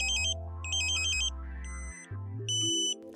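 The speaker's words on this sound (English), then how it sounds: "You hear the ambulance tone again." An electronic alarm-like tone from a satellite signal meter, used while aligning a Ka-Sat dish, cycles through shifting beeping pitches, repeated warbling tones that start and stop, steady and fairly close with no talking.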